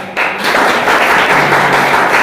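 An audience of students in a classroom breaks into a loud, close burst of clapping that starts abruptly and continues as a steady, even roar without any talking.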